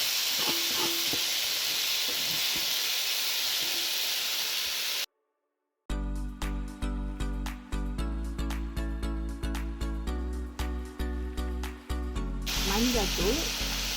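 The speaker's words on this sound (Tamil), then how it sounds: "இனி வாழைப்பூவை இதோட சேர்ப்போம்" Banana flower goes into a pan of softened tomatoes for a Jaffna-style fry. A loud hiss and sizzle runs at the start, there is a brief cut, and then rapid repeated sizzling bursts with clatter follow, close by.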